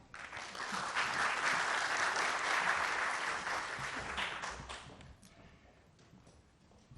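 An audience claps steadily and warmly for several seconds to welcome a speaker at a university philosophy lecture, then the applause thins out and fades, with a few scattered claps and thumps at the end.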